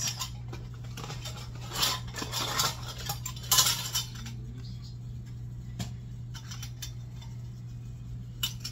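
Metal canning rings and lids clink and rattle as they are handled for canning pumpkin, a cluster of close, bright jangles early on, then sparser light taps over a steady low hum.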